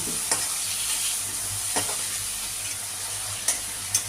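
Prawns stir-fried lightly in a little hot oil, with a steady sizzle and scraping stir strokes at several points and no talk over it.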